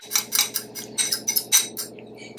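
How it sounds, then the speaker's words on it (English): Lemon juice, lemon zest and grapeseed oil are whisked together in a small bowl, heard as quick, close clinking and scraping strokes in an uneven rhythm. "And now we're going to whisk this together."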